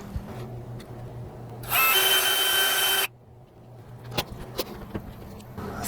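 A power drill whirs loudly for about a second and a half, then cuts off, leaving quiet rustling and a few light knocks.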